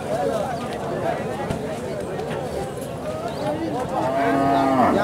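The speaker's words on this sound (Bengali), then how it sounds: "বিশাল গরু গো ভাই" A large cow moos amid a busy cattle market, its low calls rising near the end over a steady crowd murmur and people talking.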